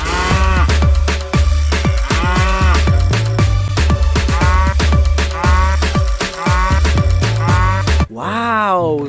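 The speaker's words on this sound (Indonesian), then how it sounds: "Ini ada hewan sapi." A cow in Jurassic World Evolution 2 moos loudly over a bouncy, rhythmic music track with repeated sharp percussive hits, the lowing calls recurring throughout and ending in a clear final moo.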